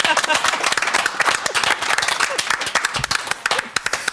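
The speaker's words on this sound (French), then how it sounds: "je crois qu'on peut les applaudir aussi" Dense, lively applause from an audience in Jura, France, rapid overlapping claps close by and loud, with a few voices mixed in throughout.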